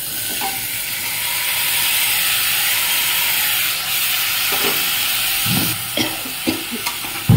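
Cut potatoes fry in hot oil with black cumin and green chillies, giving a steady close sizzle and hiss, then spoon-stirring adds scraping clatters and bursts of spatter toward the end.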